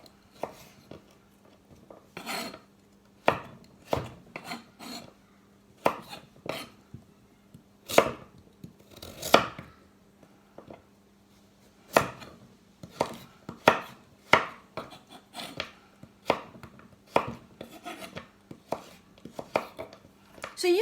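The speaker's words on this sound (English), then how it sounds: "I usually cut it into 5 centimeter lengths. So probably divide into 3 or 2, depending on the size of your carrot, and then cut it into julienne strips." A knife chops carrots into julienne strips on a board, sharp distinct knocks in irregular bursts and runs, fairly close and clear against a quiet background with a faint steady hum, and some sparse speech between strokes.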